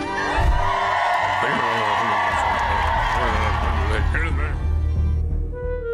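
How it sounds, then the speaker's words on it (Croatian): An audience at a children's show claps and cheers after a performance, a steady wash of applause and scattered whoops running throughout, with a voice speaking over it. "Može još jedan aplauz"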